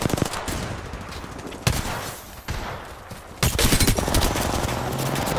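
Apex Legends gunfire: sharp bursts of shots crack out in clusters, a fusillade early on, then a pause before a loud, sustained stretch of rapid firing near the end.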